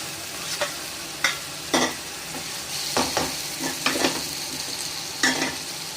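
Chicken liver dropped into hot oil for a liver gravy, a loud close sizzle broken by repeated bursts of stirring and spatula scrapes, no one speaking.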